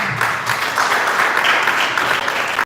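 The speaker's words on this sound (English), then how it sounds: "Keep clapping" Sustained audience applause fills the hall at a mental health awareness foundation event, dense and loud throughout with no pause.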